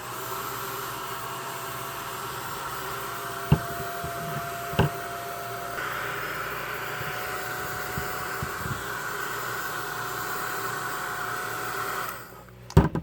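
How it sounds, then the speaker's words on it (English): A blow dryer runs steadily and loudly on custom vinyl figures, a continuous even whoosh with a couple of brief knocks, before it is switched off near the end. "I've been putting the blow dryer on them"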